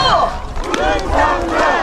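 A large crowd at an outdoor 2022 Korean presidential campaign rally in Icheon, Gyeonggi-do, roars and cheers loudly and continuously, with shouted calls rising and falling through the dense, sustained noise.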